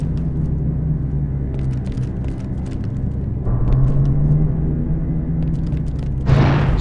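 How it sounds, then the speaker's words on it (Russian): Steady low mechanical rumble of factory machinery running below, from the video game Star Wars: Republic Commando, constant throughout, with faint clicks and a brief brighter hiss near the end. "Снизу слышно звук работающих машин."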